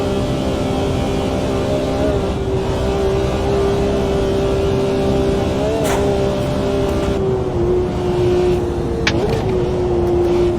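Race car engine of a BMW M1 Procar in the racing game AMS2 on the historic Nordschleife, a loud steady high-revving drone with brief gear-change dips around the middle and near the end, continuous throughout with no talk.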